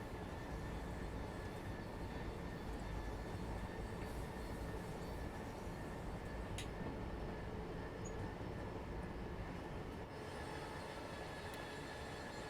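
A Class 700 electric multiple unit in Train Sim World 3 running steadily along the line, a continuous broad rumble and hum of motors and wheels with faint higher whine, no talking over it.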